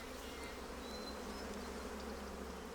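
Honey bees buzzing around their colony, a soft constant hum with occasional individual insects passing closer, quiet and unbroken.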